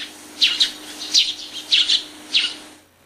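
A sparrow chirps nearby in four short bright bursts, a couple of them doubled, separated by brief pauses over a quiet background.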